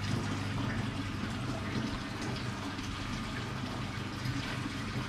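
Water rushes steadily through an aquarium sump filter, a soft continuous gushing flow with faint clanking, quiet and unbroken throughout.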